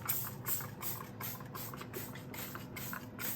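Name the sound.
spraying Clorox cleaner on a sink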